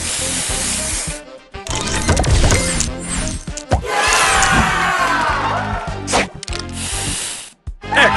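A spray booster effect from the Match Masters match-three mobile game makes a loud, dense, hissing whoosh of layered synthetic sound with crashing and crowd-like bursts, broken by brief gaps, with no speech.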